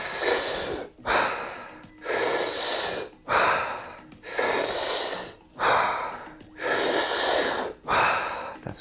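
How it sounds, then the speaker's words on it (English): Deep, forceful Wim Hof style breathwork: loud, close inhales and exhales in a steady rhythm of about eight breaths, each a long airy rush with brief pauses. "As you take that breath in, to really expand that stomach, expand that chest all the way to the head,"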